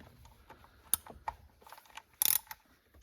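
A hand ratchet clicks in short bursts while loosening the bolts on the camshaft adjuster solenoids of a Mercedes-Benz engine. The sharp pawl clicks come close and irregular, with brief pauses between them.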